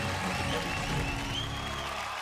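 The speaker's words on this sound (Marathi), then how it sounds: "जोरदार टाळ्या होऊन जाऊ द्या ऋतुजासाठी" Applause on a Marathi TV show, a dense continuous round of clapping from a studio audience, steady and full for the whole stretch, with faint crowd sound underneath.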